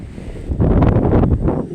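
Loud gusting wind rumbles against the microphone at a beach, a brief close burst with a faint hiss of surf behind it.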